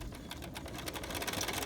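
Close, quiet, fast steady whirring and rapid needle ticking from a Bernina sewing machine stitching binding with the #71 foot, continuing without pause.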